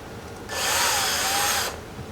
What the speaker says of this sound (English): We're going to drill it in.